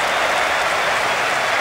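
A stadium crowd roars and cheers at a match in the video game PES 2009 between Mexico and South Korea, a dense, continuous, loud wall of crowd noise with no break.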